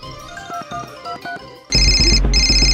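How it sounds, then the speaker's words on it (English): Phone ringing with an incoming call: a loud electronic ringtone plays in two bursts with a short gap between them, after a stretch of toy-like melodic tones. "Oh, a phone call."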